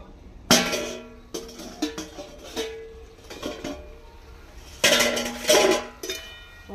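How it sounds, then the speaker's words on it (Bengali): A metal lid comes off a cooking pot of mixed vegetables and fish, with clear clanks and clinks of metal on metal, a pause of quieter handling, then two more bright clattering bursts. "ঢাকাটা খুলতে থাকি"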